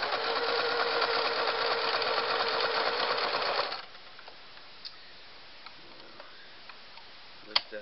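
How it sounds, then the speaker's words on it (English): A Singer Model 353 Genie sewing machine runs a straight stitch at six stitches per inch, a steady rapid mechanical whir for about four seconds that then stops, leaving only faint small clicks and handling sounds. "And let's go only 6 stitches per inch all the way down. Still straight stitch."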